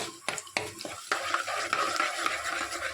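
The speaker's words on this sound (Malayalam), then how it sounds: "ഇതെല്ലാം കൂടെ ഒന്ന് ഇളക്കി കൊടുക്കാം" A gooseberry pickle mixture with chillies and curry leaves being stirred in a pan, sharp scraping strokes over a soft sizzle, close and fairly quiet.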